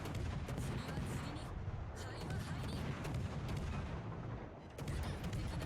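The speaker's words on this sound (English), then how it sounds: "So shells are flying out." Heavy ship guns fire shells in World of Warships Legends, producing a dense, continuous rumble of booming salvos with a short dip near the end and a faint voice underneath.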